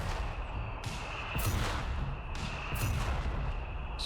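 A mortar barrage in Company of Heroes 3 striking targets including an MG and an AT gun: faint, distant thuds and a few sharper impacts over a steady background hum.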